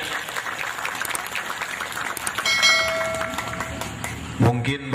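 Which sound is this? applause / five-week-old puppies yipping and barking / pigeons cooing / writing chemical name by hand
applause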